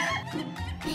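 A laughing-breed rooster gives a rapid, cackling crow that sounds like chuckling laughter. The burst is short and close, and the pulses are dense and run together.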